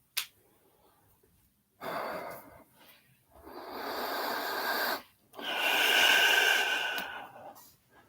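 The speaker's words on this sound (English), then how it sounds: "Breathing is normal." Steady breathing during a yoga class session, with long audible breaths at close range: a short burst near the start, then three sustained exhalation-like rushes separated by brief pauses.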